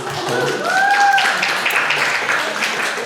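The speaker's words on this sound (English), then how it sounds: "Clap again." An audience at a book launch and author reading for a Chinese-Canadian fiction anthology claps for about three seconds, a steady wash of clapping with a faint whistle-like tone over it.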